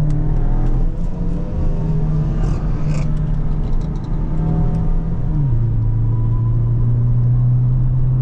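A Stage 2 tuned vRS 230 making about 350 bhp pulls hard on the Agra Expressway near 250 km/h, its loud, close engine droning steadily before the pitch drops sharply at a gear change and carries on.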